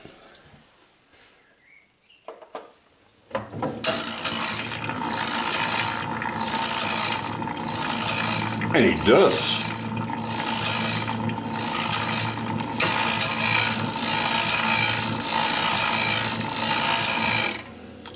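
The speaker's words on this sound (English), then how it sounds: "The weird noise you hear is this little plate touching the teeth." Hembrug metal shaper running after assembly, with a small plate rubbing and clicking against the bull gear teeth, giving a continuous loud rhythmic ratcheting clatter over the steady machine drone; a brief spoken remark comes at the very start.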